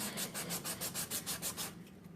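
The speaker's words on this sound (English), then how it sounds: "Just sand it just like that." Fine sandpaper rubs back and forth across a wooden bevel on a dollhouse infant changing table, about a dozen rhythmic, evenly spaced scratchy strokes, close and fairly loud, that trail off at the end.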